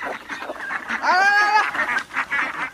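A flock of farm ducks at a fishpond crowding in at feeding time, quacking in rapid overlapping bursts nearby, with one loud honking call standing out while a man calls out to them.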